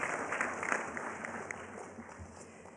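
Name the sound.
applause for graduates at convocation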